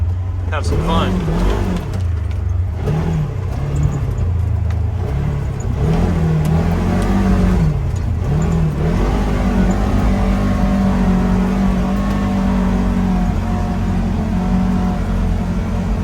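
A 2021 Polaris Ranger 1000XP Northstar Ultimate UTV drives off-road along a power line trail, its engine revving up and down in repeated surges before settling into a steady drone, with someone talking over it.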